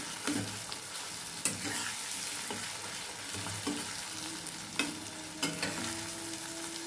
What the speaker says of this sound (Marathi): मी तीन अंडी ह्याच्यात फोडून घेतलेली आहे ती ह्याच्यामध्ये टाकून घ्यायच्यात आपल्याला आणि छान मिक्स चांगलं हलवून घ्यायचे